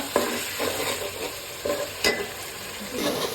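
Masala of coriander powder and tomato fries on a slow flame for a green chickpea and potato curry, with a soft continuous sizzle broken by regular scraping stir strokes about every half second.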